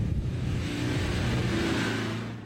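An off-road car powers up a steep hill, its engine revving steadily under load with a mid-pitched drone that holds, then eases off at the top and fades slightly.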